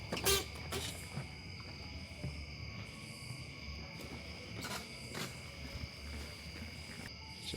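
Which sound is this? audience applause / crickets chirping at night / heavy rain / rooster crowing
crickets chirping at night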